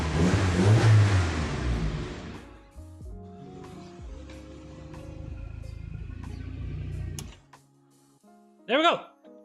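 A car engine in a garage cranks and catches, then revs up and down in surges before dropping off. People talk loudly over the start, and a brief squeaky sound follows near the end.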